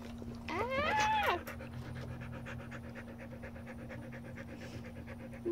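A puppy pants rapidly and steadily at close range, with a brief high whine near the start and no talking.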